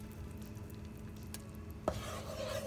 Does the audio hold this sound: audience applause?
no